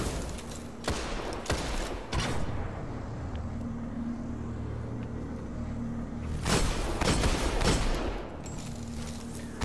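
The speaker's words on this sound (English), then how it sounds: "You need to shoot it with your sniper." In the Destiny video game, sniper rifle fire cracks out in a few sharp, loud shots spaced apart, each trailing a rumble over a steady game background hum.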